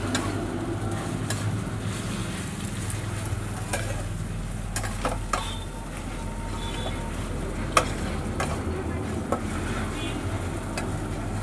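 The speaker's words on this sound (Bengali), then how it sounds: "এবার এটাকে ভালো করে মিশিয়ে নিতে হবে।" Spoon stirring spice paste into hot oil in a pan for chole bhature gravy, a steady close sizzle with scattered scraping clicks running evenly throughout.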